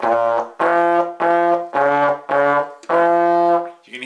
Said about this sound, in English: you can hear how I put my slide out and the sound went down.